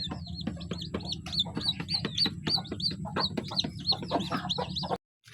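Chickens cluck and chirp in quick repeated calls close by, a busy overlapping series that cuts off abruptly near the end, with no talking.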